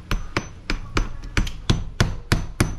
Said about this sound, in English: now we're using roofing nails and we're just gonna nail it in on all the flanges